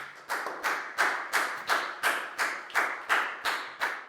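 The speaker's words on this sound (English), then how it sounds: "give yourselves all a big round of applause" A class of Year 4 students claps in unison, eleven sharp, evenly spaced claps in a steady rhythm, close and alone with no talking.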